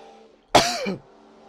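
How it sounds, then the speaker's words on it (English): A single short, harsh cough blending into a throat clear, close and fairly loud, lasting about half a second against near silence. "I feel like I have to cough."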